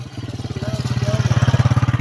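A motorcycle engine runs close by at a labour work site, with a throbbing, pulsing putter that quickens and grows louder as it revs up, its beats tightening toward the end.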